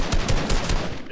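Rapid gunfire in a shooter video game, a quick burst of several loud, close, evenly spaced shots with no talking.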